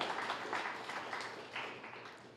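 Applause from a seated audience at a public talk on arts collaboration, a steady wash of many hands clapping at moderate distance, sustained throughout without a clear start or end.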